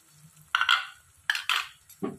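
A utensil stirs spice paste into a tilapia fish curry in a pan, giving a few separate scraping, clinking strokes in a quiet kitchen.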